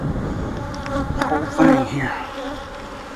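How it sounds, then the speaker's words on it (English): Honey bees buzzing inside an open hive during an inspection, a steady close drone with shifting pitch as individual bees pass near, while someone briefly speaks over it. "Man, there's a bunch of bees in here."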